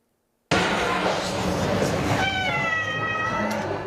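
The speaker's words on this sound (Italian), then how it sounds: "Vi presentiamo ora un gatto davvero speciale." A tabby cat lets out a long, drawn-out meow after a moment of silence, loud and close, its pitch wavering toward the end.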